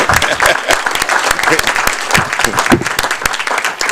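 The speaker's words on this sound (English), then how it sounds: "a special round of applause again for the parents, please" Applause at a school board meeting as parents are honored, a loud, dense round of clapping from the room with scattered sharp claps, sustained throughout.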